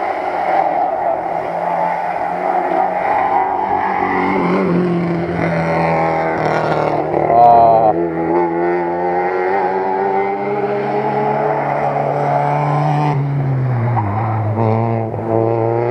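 Race cars at the 2016 Lovćen hill climb in Montenegro rev and roar up the road, their engines rising and falling in pitch as they pass close by, loud and sustained.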